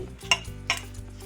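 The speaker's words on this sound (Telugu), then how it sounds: "ఇందులోకి వేసుకొని బాగా కలుపుకోవాలి." Beetroot paste is mixed into rice flour batter, with two quick, close spoon strokes scraping and clinking against the bowl over a faint background hum.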